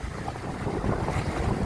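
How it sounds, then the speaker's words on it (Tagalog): Strong Pacific waves and wind surge around a small fishing outrigger boat, a loud, churning rush of water and gusting wind noise close to the microphone, with no one speaking. "sobrang lakas ng alon talaga, sobrang lakas ng current"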